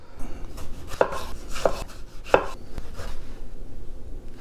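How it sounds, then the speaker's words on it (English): A knife roughly chopping Roma tomatoes on a cutting board gives several distinct thuds spaced about half a second apart, then softer cuts trailing off, with no talking. "Now we're gonna take 5 tomatoes and we're just gonna give them a rough chop as well."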